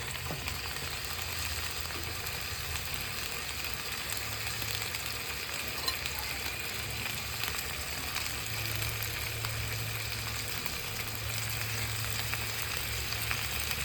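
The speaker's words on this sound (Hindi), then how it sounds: "इस तरीके से एक करके हम इसे जितना इसमें पकड़े उतना इसमें फ्राई कर लेंगे।" Chicken pieces shallow frying in a little oil in a pan give a continuous, even, close sizzle that holds steady with no break, and no voices.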